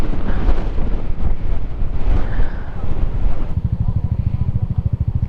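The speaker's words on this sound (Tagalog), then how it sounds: "sobrang lakas ng hangin" Strong wind roars steadily across the microphone during a ride on a high mountain road in Dingalan, Aurora, a loud continuous buffeting with gusts and no talking.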